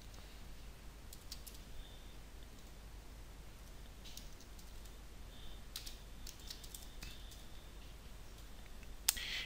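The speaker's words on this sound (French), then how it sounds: "Je vais d'abord taper mon nom." Faint, sparse keystrokes on a computer keyboard, scattered clicks spread over several seconds against a quiet room hiss, with one sharper tap near the end and no one speaking.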